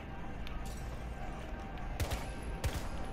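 A few muffled bursts of video-game gunfire crack out in two short clusters near the end over a steady background rumble.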